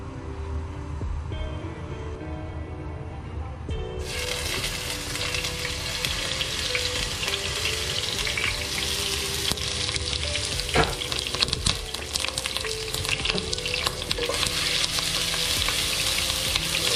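Ginger garlic paste fries in hot oil for a Kerala-style duck curry, a loud, dense continuous sizzle that swells sharply after a few seconds, with occasional stirring clicks underneath.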